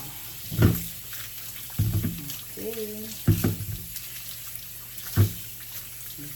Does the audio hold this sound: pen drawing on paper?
no